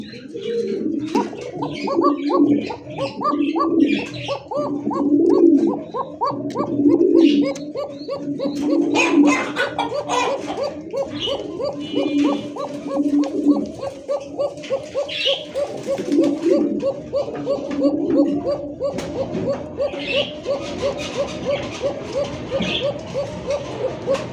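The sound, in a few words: pigeons cooing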